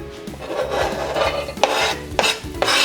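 A spoon scrapes and rasps around a pot as garlic is stirred in olive oil, a steady close-up scraping with a few sharper knocks against the pot near the end.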